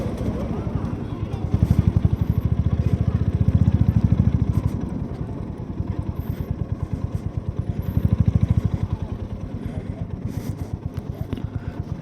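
A motorcycle rides into a temple parking area, its engine thumping in a steady close pulse that swells twice with throttle before settling toward idle, with someone talking over it.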